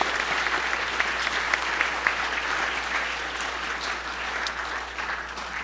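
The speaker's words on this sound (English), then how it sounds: "How about another round of applause?" Sustained applause from a dinner audience at a journalism awards event, a thick, even roar of many hands clapping at close range for several seconds without pause.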